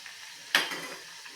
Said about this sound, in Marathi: आपली भजी छान तळून होत आहेत